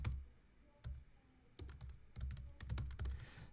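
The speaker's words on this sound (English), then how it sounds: "let me keep typing out this code first" Someone types code on a computer keyboard in quick irregular bursts of clicks, with a few isolated taps and short pauses between flurries, close and fairly quiet.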